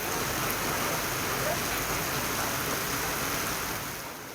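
Heavy monsoon rain driven by strong wind pours steadily over Saurashtra, a dense, unbroken roar of close, loud downpour that eases slightly at the very end.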